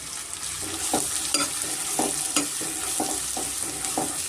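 Sliced onions fry with fennel seeds and cumin in a pan for chicken fry, a steady bright sizzle broken by regular scraping stirs roughly once a second, with no talking.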